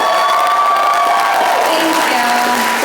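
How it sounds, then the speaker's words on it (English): Audience at a fan-convention panel with actress Amy Jo Johnson cheers and claps, a loud, steady crowd roar with whoops and shouts running the whole stretch. "Can we get a round of applause for Joe Johnson"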